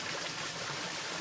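Flowing water from a stream in Batangas makes a soft, steady, hissing rush, faint and continuous with no voices.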